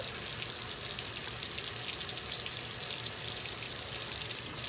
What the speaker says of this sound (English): Since I did do push-ups, I want to wash my hands again.